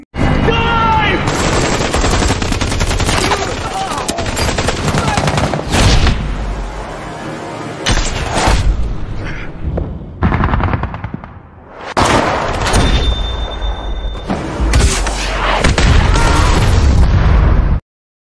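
A film battle scene erupts in loud bursts of automatic gunfire and heavy explosions destroying an enemy vehicle, volleys coming in waves with brief quieter gaps between them.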